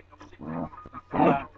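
A dog makes two short, close vocal bursts, low whining, growl-like sounds with a pause between, fairly loud and not under any talk.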